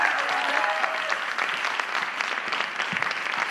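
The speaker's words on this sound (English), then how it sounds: "We just finished applauding for Maddie" An audience applauds Maddie, a Villanova University Three Minute Thesis competitor, after her research presentation. Moderate, even clapping from a seated crowd continues throughout, with a brief tonal sound early on.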